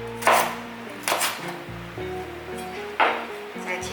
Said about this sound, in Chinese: 准备大约10克的芹菜，把它切成芹菜末